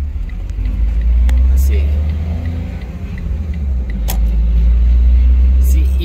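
A 2014 Smart ForTwo BoConcept Edition accelerating as it pulls out onto a main road in normal drive mode, with a steady low engine and road rumble rising and easing from inside the cabin while a voice speaks briefly.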